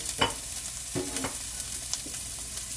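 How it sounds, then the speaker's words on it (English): Chopped green peppers and onion sizzle in a very hot pan, a steady frying hiss broken by a few scraping stirs, close up and with no talk. "I'm going to just let them sizzle there for a minute or two before I throw in my ground turkey."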